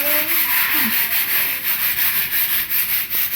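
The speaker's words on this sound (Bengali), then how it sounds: "জলের পাইপ দিয়ে সার্প জল দিয়ে ঘষে ঘষে ভালো করে পরিষ্কার করা হচ্ছে" Floor in a home being scrubbed clean with water from a pipe, rhythmic rough rubbing strokes repeating evenly and close, loud with a faint background voice briefly at the start.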